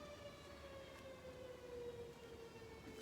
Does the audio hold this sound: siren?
yes